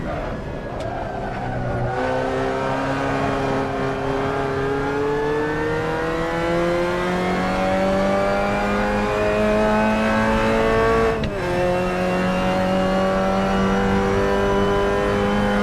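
Mazda MX-5 Cup race car in the Assetto Corsa sim at Portland International Raceway, its engine droning steadily and climbing in pitch through long revving pulls, with a sharp gear-change dip near the end, loud and close with no talk.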